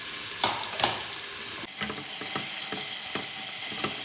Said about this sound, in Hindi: आधा कप हमने ऑयल डाल लिया है और इसमें और एक बड़ा प्याज हमने बड़ा प्याज डाला है